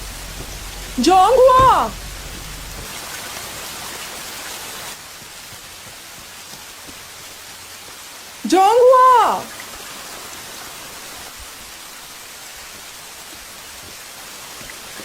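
Steady rain falls throughout a quiet outdoor scene, with two short bursts of shouted calling from a voice cutting through the even wash of rainfall.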